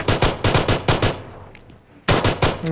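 Rapid bursts of automatic gunfire in the video game BGMI, in quick rhythmic volleys, a pause with faint echoing tail, then another loud burst of shots.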